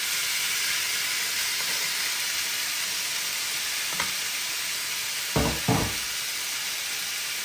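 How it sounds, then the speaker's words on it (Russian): Steady hissing sizzle of meat frying in olive oil in a pan, with a few soft knocks of utensils against the pan. "И ложим мясо и начинаем жарить мясо наше."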